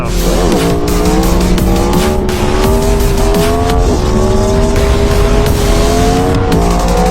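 636cc stunt motorcycle screaming at high revs during a wheelie, pitch climbing and dropping through several gear shifts, loud and close with a continuous roar.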